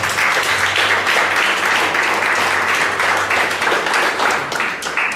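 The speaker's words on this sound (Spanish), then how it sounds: "Fuertes aplausos, por favor." Steady audience applause at a literary event, continuous close clapping from a room of people holding even loudness throughout.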